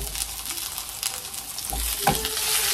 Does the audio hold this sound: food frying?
yes